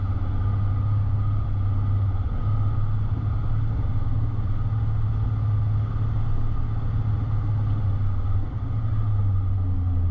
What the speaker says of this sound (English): probably driving most of this from memory in second gear, low range